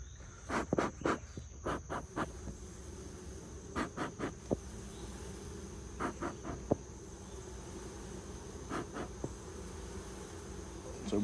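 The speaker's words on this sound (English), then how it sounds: "we're gonna smoke these bees down" Honey bees in a swarm hive buzz steadily while being smoked, with clusters of sharp clicks and knocks from handling the hive frames at intervals.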